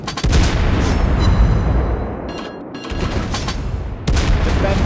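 Naval cruiser guns fire repeatedly in World of Warships Blitz, a German Tier 8 cruiser, Mainz, loosing dense, loud booming salvos that blur into a continuous barrage, with a brief lull before another burst.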